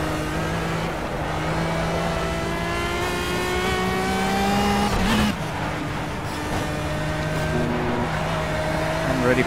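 Pagani Zonda R race car engine held at full throttle in the Project CARS racing game at night, a loud continuous high-pitched roar with rising and falling pitch through gear changes, over faint background game sound.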